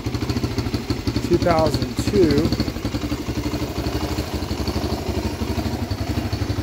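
A 2003 Suzuki DRZ 125 dirt bike engine idles with a steady, rapid putter throughout, close by, while someone talks briefly over it.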